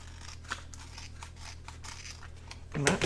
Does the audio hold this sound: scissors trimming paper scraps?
yes